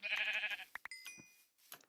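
A blocky sheep in the video game Minecraft gives a short, clear bleat up close, followed by a few brief game chimes and clicks.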